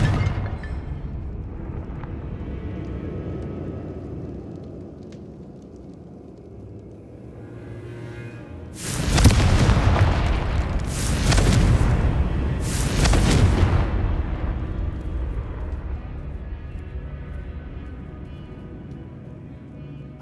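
Confringo blasting spell explosions in Hogwarts Legacy, with two or three loud, close booming bursts in quick succession midway through, preceded and followed by a low rumbling game ambience.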